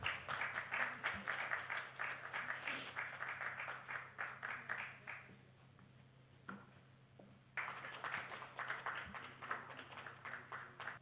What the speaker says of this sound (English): A round of applause, please, as they join us on stage.